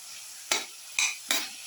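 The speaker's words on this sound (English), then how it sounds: "Keep on sauteing for 5 to 6 minutes until the tomatoes become soft" Tomato pieces sautéing in a pan as three brisk scraping stir strokes over a soft, steady sizzle, close and moderately quiet.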